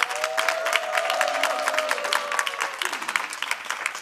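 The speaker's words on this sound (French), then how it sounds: "Et mon charmant public que je vais demander de s'applaudir." Applause from a television studio audience, a steady dense patter of many hands, with a sustained tone and some voices running faintly beneath.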